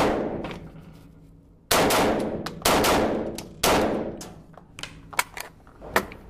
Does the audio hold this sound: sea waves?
no